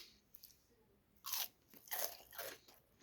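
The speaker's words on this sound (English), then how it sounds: "So I'm chewing with gums." Cooked popcorn possum meat is chewed with bare gums and no back molars, giving close, wet, crunchy bites in three or four distinct bursts with no talking.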